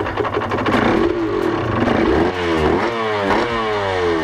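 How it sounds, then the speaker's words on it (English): Rare classic motorcycle engine running close by, revving up and down several times, its rising and falling pitch loud and continuous with no talking. "Yeah, really crisp engine on her."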